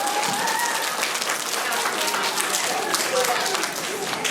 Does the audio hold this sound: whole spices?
no